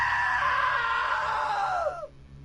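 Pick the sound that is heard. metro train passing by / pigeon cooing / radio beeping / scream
scream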